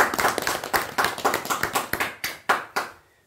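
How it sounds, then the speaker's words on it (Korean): Audience clapping at a lecture, a run of distinct, fairly close hand claps in an uneven rhythm that thins out to a few last separate claps before falling silent. "자 여러분 큰 박수 부탁드립니다."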